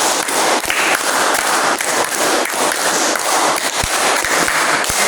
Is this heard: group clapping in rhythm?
yes